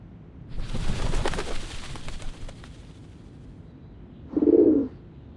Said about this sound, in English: The doves of the Whitestone House are here.